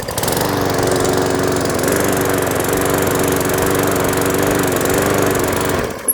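A Cobra M40B push lawn mower, primed and started with a pull of the recoil starter, runs steadily at close range with a loud, constant engine drone that cuts off abruptly at the very end.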